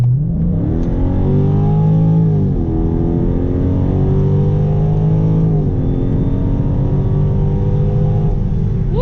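A Dodge Charger 392 with a 6.4L engine, E85 tune and tuned transmission accelerating hard on a test drive, its loud V8 roar climbing through the revs, dipping at a shift and climbing again, close and continuous.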